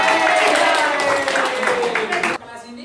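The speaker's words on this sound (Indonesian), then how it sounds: "Oke, tepuk tangan dulu." A classroom of about 36 students claps hands together, a dense burst of applause lasting a couple of seconds before stopping abruptly.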